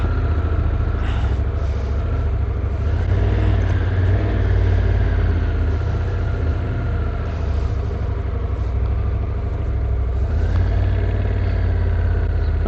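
Motorcycle with a DCT transmission rolling out under steady engine rumble, a close, continuous mid-pitched drone with slight rises in revs and wind noise throughout.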